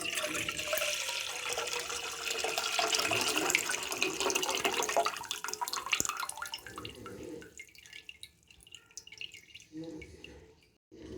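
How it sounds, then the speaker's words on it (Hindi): Sandalwood-infused water poured into a saucepan for homemade red sharbat, a steady splashing pour for several seconds that thins out into sparse drips and trickles toward the end. "हम दूसरी साइड पे सॉस पैन में संदल वाला पानी शामिल कर देंगे"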